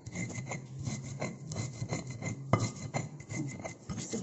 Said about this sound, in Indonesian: bawang yang digoreng ini kita lumerin juga halus-halus